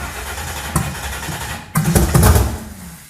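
A car engine on the Crusher project build cranks and catches, with the throttle worked: a short burst early, a lull, then a louder rough surge of revving for over a second.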